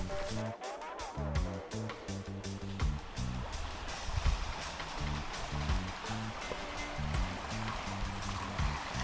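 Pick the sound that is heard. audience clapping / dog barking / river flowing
river flowing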